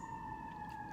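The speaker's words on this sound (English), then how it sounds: "Excuse the sirens, you guys." A steady high siren tone holds throughout, wailing faintly over a low background rumble, with no other clear sounds.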